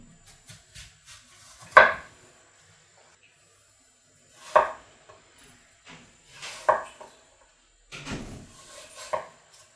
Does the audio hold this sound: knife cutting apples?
yes